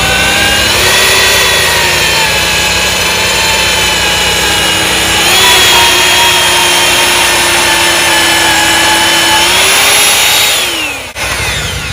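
A loud, steady engine-driven auger drones and whines as it bores planting holes through grass roots, its pitch rising and falling as it works under load before winding down near the end.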